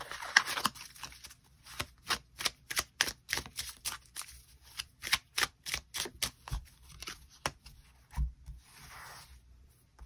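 Tarot cards are shuffled and flicked down in a quick series of crisp, close slaps and riffles, with a softer sliding rustle toward the end and no talking.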